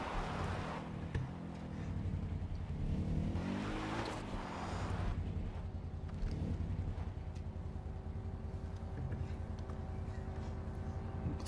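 A car engine in Far Cry 4 drones loudly and steadily while driving, rising in a brief surge of revving before settling into a continuous low rumble.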